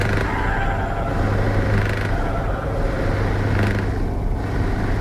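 A Scania truck engine drones steadily in Euro Truck Simulator 2, a loud, continuous low rumble with a constant deep hum and no breaks.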